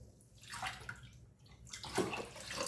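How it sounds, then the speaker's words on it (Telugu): Water poured in bursts onto foxtail millet and moong dal in a pressure cooker, two close splashing pours separated by a short pause, quiet and without talk. "ఇప్పుడు మనము దీనికి వాటర్ వేసుకుందాము."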